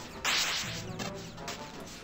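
A video game laser switches on with a sudden bright electronic zap that swooshes, then settles into a buzzing hum, heard once up close.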